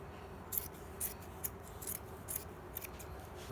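Scissors cut through sofa upholstery fabric in a steady series of sharp snips, roughly seven evenly spaced crisp cuts over a low room hum, with no talking.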